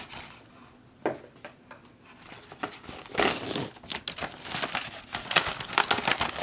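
Crackly crinkling of a foil packet of freeze-dried pickled beets being handled and pulled open, irregular rustling bursts that grow busier and louder toward the end, close up with no talking.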